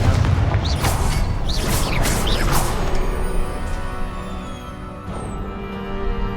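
A Confringo spell blasts in Hogwarts Legacy, producing a series of swooshing, crashing bursts in the first few seconds that give way to a lingering resonant rumble and a faint mechanical tail, with no talking.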